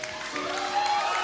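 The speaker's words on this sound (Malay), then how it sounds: "Tepukan untuk ibunya." A concert audience applauds Didi's mother: a short burst of clapping from a crowd, moderately loud and continuous over about a second.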